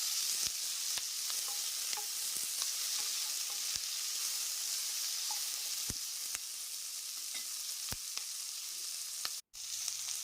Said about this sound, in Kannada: ಈಗ ಹುರ್ಕೊಳ್ಳೋಣ.